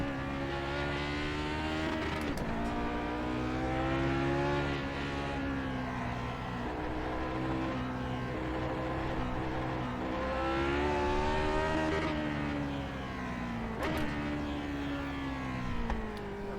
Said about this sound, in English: Practicing blipping on my downshifts when it's appropriate, and try not to shift too much during the entry of the corner